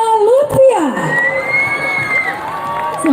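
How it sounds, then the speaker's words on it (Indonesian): Audience at the Liwa Expo 2022 opening night cheers and whoops loudly, a sustained crowd roar with a rising voice over it, continuous throughout. "Bapak Ibu, kita sambut dengan tepuk tangan yang meriah"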